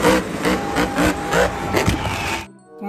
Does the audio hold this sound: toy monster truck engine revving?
yes